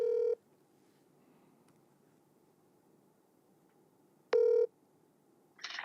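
A telephone keypad dials a call, with two short, loud tone bursts about four seconds apart over faint line hiss, then a brief noisy burst at the end.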